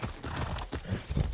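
Horse galloping in Far Cry 6, steady rhythmic clip-clop of hooves with a brief whinny, close and fairly loud, with game ambience underneath.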